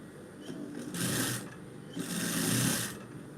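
A sewing machine runs in two short bursts of stitching, close and fairly loud, with a quieter whir and fabric handling between them.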